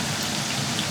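Scallions and ginger hit a hot iron wok while braised noodles are being cooked, giving a steady, dense sizzle that hisses evenly throughout without a break.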